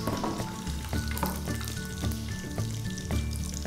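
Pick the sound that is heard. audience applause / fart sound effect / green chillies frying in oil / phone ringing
green chillies frying in oil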